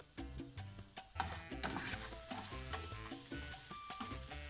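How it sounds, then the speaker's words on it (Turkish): Peppers frying in olive oil while being stirred, a close, bright sizzle with rhythmic scraping and knocking of the utensil against the pan in short repeated strokes, no voices. "Bunları böyle iyice yumuşayana kadar karıştıra karıştıra pişireceğim."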